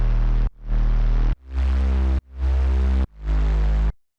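Synth bass in a future bass track, sidechained so it ducks under volume automation, plays five loud sustained notes, each one cut sharply and then swelling back in a steady pumping rhythm, with nothing else heard.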